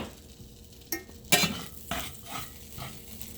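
Lean ground beef, 15% fat, cooks in butter in a pan, a soft sizzle under a few sharp spatula scrapes and clinks against the pan, close and intermittent.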